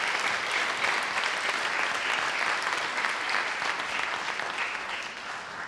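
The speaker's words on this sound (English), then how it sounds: "you can give yourselves a clap too" Audience at a Light Up a Life evening event applauding themselves, a dense, continuous round of clapping that holds steady and tapers slightly at the end.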